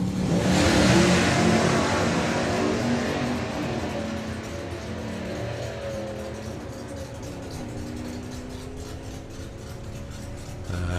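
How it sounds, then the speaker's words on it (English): A Chevrolet Camaro launching down the drag strip at a hot rod drag meet, loud engine roar swelling at the start then fading steadily as the car pulls away. "for the Camaro going through"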